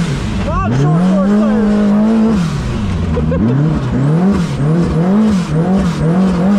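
A Can-Am Maverick X3 UTV on 35-inch tires, tested for racing, drives wide open over jumps. The engine is close and loud, revving up and down in repeated surges, with tire noise under the roar.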